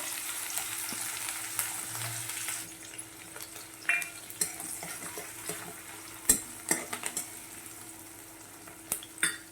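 Finely chopped onion and green chillies fry with cumin in a pan, giving a steady sizzle broken by sharp clinks and scrapes of a stirring utensil against the metal.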